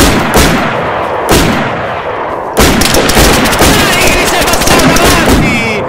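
Dense gunfire in the survival video game DayZ, loud bursts and overlapping shots through most of the stretch, with a sharp new volley midway and some voice chatter mixed in.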